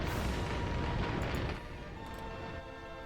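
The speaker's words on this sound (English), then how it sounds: "That's an ammo cook-up." Burning tanks in a video game cooking off their ammunition, a dense continuous roar of booming explosions that drops to a lower rumbling blaze partway through.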